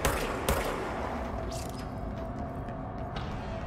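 Video game gunfire in Control, a few sharp shots up front over a steady, moderately quiet background rumble, with faint scattered impacts trailing off.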